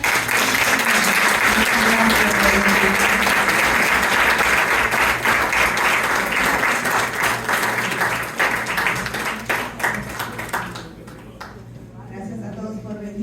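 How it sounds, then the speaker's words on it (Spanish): An audience at a talk on the Russian avant-garde gives the professor loud, sustained applause: dense clapping that holds steady, then thins and fades out over the last few seconds, with some voices heard as it dies down. "aplausos a la profesora"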